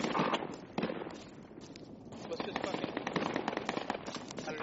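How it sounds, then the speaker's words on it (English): Shotgun blasts in a squad-based military video game, firing as sharp broadband bangs under continuous player voice chat and ambient battlefield noise. "I'll shoot them with a shotgun"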